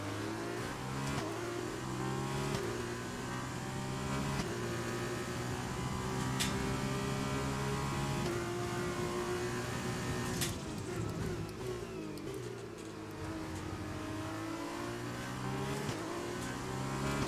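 Formula 2 race car engine in F1 2020 at the Austria circuit, droning and revving continuously, pitch rising and falling through gear changes, steady and loud with no talking.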